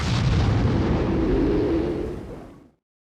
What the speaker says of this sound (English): they threw their homemade bomb at its mouth and the underground monster finally died exploding.